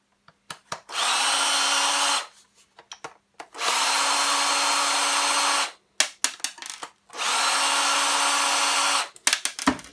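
Power drill whirring in three steady bursts of about two seconds each while mixed scrap copper and brass wire is stripped, close and loud, with short clicks and handling knocks between the runs.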